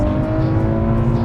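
A 500 horsepower Nissan Z accelerates hard, its engine roaring loud and close in a brief, steady burst.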